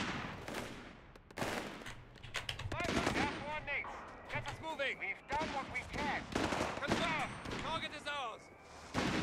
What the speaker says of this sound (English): It's just so fun to use the autocannon.